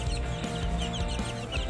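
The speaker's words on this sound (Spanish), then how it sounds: "Aquí están los pollitos." Young white chicks, meant to become fighting roosters, give soft repeated peeps and clucks close by, with short calls scattered over a low steady background and no talking.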